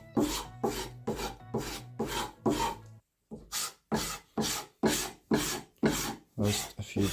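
A knife is stroked with firm pressure across the stone of a Lansky guided sharpening system, giving about a dozen crisp, evenly spaced rasping passes, close and clear, with one short pause partway through.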